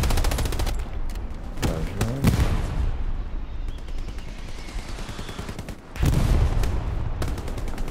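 Gunfire in the video game Hell Let Loose, with sharp bursts of automatic fire in rapid rattling volleys near the start and again after a lull, over rumbling background battle noise.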